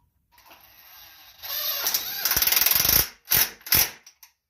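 Ratcheting clicks from tightening a bolt on the PTO clutch of a Toro Z Master zero-turn mower with a 52-inch deck, a fast run of metallic pawl ticks followed by a few louder clanks.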